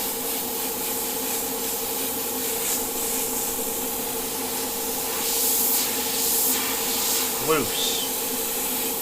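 An airbrush sprays paint onto a tiki painting with a steady, close hiss that runs throughout. A person speaks briefly over it.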